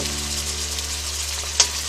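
Pieces of pork sizzle in a pan with garlic for Peruvian adobo, a steady close frying crackle throughout, with a brief sharp tap near the end and no talking.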